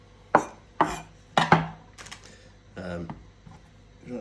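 A sharp knife slices through a tomato on a chopping board, making about five crisp, separate cuts in an uneven rhythm. The cuts are close and clear, with short gaps of quiet between them.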